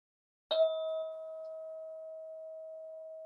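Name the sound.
bell rung to begin yoga session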